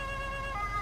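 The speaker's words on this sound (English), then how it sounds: "Alright, there's a siren." A police car siren in the Autobahn Police Simulator driving game, a steady electronic wail with stacked harmonic tones sounding continuously at moderate level over a low engine rumble.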